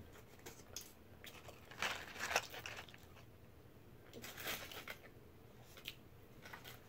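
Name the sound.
biting and chewing a crunchy Mexican crunch wrap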